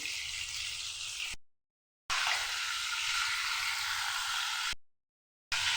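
Peeled prawns fry lightly in hot oil for a prawn malai curry, giving a steady, soft hiss of sizzling that cuts out briefly twice; no speech.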